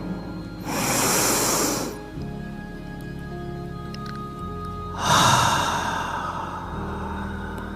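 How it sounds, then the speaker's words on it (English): Two deep, slow breaths taken during a guided meditation, each a long airy rush of breath lasting over a second, close and clear, with a quiet low hum between them. "And another inhale."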